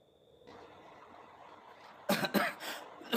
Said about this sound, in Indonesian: Sampai batuk kita gitu.